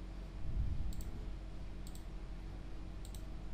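A computer mouse gives three quick double clicks, each a crisp pair of faint ticks about a second apart, over a quiet background hum.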